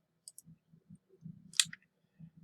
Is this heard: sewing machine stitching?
no